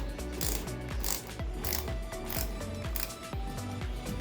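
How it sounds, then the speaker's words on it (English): Screws being driven into the plastic base of an LG 7.5 kg top-load inverter washing machine, with a steady run of close, rapid ratcheting clicks that repeat in even pulses throughout, and no talking. "So this is where we will attach the screws."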